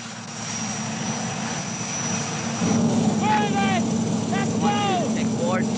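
A military helicopter flies in carrying an airborne demolition party, a steady engine and rotor roar filling the background while someone speaks over it.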